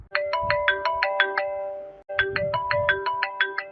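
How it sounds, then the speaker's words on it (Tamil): Mobile phone ringtone in a cartoon: a bright, repeating melodic ring in two bursts with a short break between them, loud and close over a low background hum. "போன் அடிச்சிட்டு இருக்கு, எடுத்து பேசுங்க"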